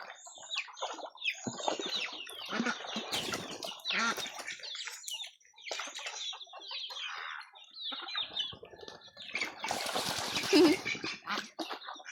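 Chickens cluck and squawk in a noisy, busy flock nearby, with bursts of flapping and overlapping calls throughout.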